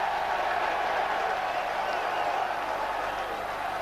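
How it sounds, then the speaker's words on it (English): Rugby crowd at Wakefield giving ironic cheers, a broad, steady roar of many distant voices with mixed clapping throughout. "The Wakefield crowd, the ironic cheers."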